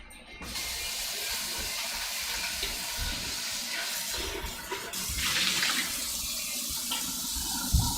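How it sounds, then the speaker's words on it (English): Tap water runs steadily as an Instant Pot inner pot gets a quick rinse in a kitchen sink, a continuous close splashing with a brief surge midway and a clunk near the end. "I'm going to give this a little rinse."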